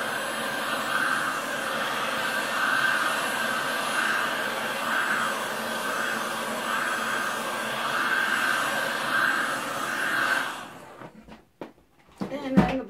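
Blow dryer heating resin poured on glass, a steady whirring blower roar held for about ten seconds before cutting off, followed by a few handling knocks and bumps.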